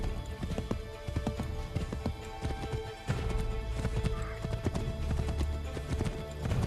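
Horse hooves galloping in the video game Assassin's Creed III, a steady rapid clip-clop rhythm close by with continuous game ambience and occasional horse snorts.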